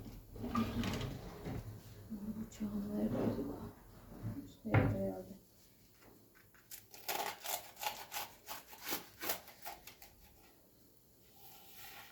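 A kitchen drawer slides open or shut during gözleme cooking with yufka, giving wooden rubbing and scraping plus a run of light clattering knocks; voices talk through the first half.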